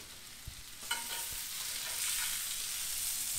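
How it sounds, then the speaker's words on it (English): Peppers and onion being scooped out of a sizzling frying pan into a clean bowl, a steady loud sizzle with a few soft utensil scrapes and taps near the start. "I'm going to remove this from the pan. I'm going to get a clean bowl. And I'm just going to scoop it out."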